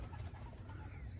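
Racing pigeons in free flight around their loft, a soft low cooing and faint wing flutter over steady outdoor background noise, no voices.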